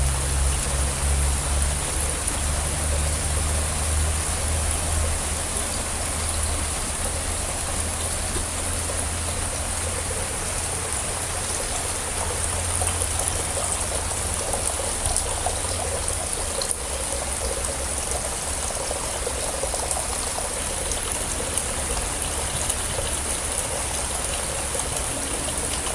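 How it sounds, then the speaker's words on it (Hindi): Heavy rain pours steadily outdoors for the whole stretch, a dense, continuous hiss and patter of water with a low rumble underneath and no talking. "ये ज़बरदस्त सी बारिश हो रही है।"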